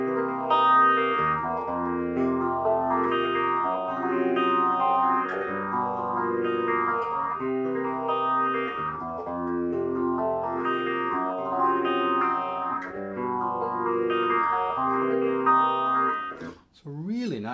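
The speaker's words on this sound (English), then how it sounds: "Really nice sounding phase shifter." A guitar plays through a vintage Gibson 2-12 100-watt amp with its built-in phase shifter engaged, the sweeping swirl cycling steadily over sustained chords, loud and close, ending with a brief pitch-bent note.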